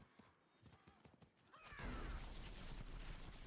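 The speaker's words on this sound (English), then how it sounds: "Oh, that was my horse that I was on." A horse whinnies in the Diablo 4 video game, a rising neigh followed by a rumbling snort over soft clip-clop and game ambience.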